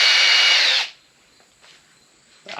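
Power drill whirs loud and close for under a second while backing a brace loose on an off-grid cabin's framing, then stops, followed by faint clicks and a short burst of noise.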